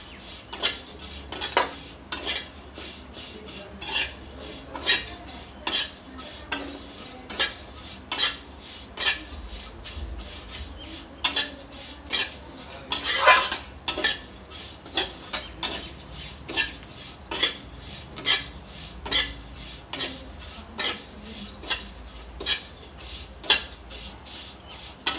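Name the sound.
stirring and roasting vermicelli in a pan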